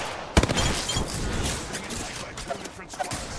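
Gunfire in the video game Apex Legends comes in rapid, loud bursts of several shots, with sharp cracks standing out from a busy, noisy battle backdrop.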